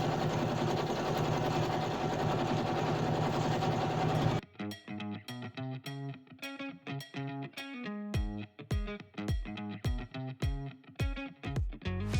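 A sewing machine stitches quilt binding onto a table runner with a binding foot, starting with a long continuous whir, then breaking into a rapid series of short bursts and stops, loud and close with no talk.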